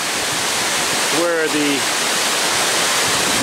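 Reservoir water pouring from a pipe out of a mountain near Kens Lake falls in Utah, a loud steady broadband rush throughout, with someone briefly speaking over it.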